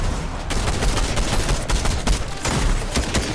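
Dense, rapid gunfire from a competitive shooter video game match, with overlapping bursts and sharp repeated shots filling the whole stretch, loud and continuous.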